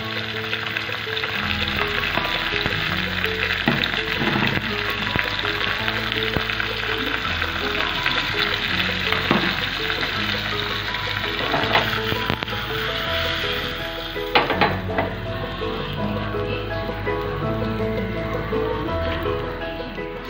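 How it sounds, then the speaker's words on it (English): A tadka of ghee, curry leaves, cumin and red chili powder sizzling hard, a dense crackling spatter with some stirring clinks throughout, heard close and with no speech. "Take some ghee, 1 spoon, add curry patta to it, little bit of jeera and red chili powder."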